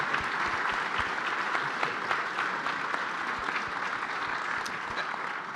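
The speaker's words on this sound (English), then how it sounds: "round of applause for Scott." An audience at a Greater Syracuse Sports Hall of Fame induction gives a steady round of applause, dense and sustained clapping with no talk over it.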